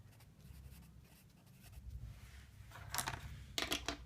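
Pen scratching on paper while filling in a cash flow statement, soft strokes at first that grow into quick, distinct scribbles near the end, close and fairly quiet.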